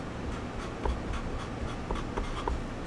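Chalk writing across a sanded chalkboard, a soft continuous scratchy scraping with faint light taps as letters form, close up and quiet, with no voices.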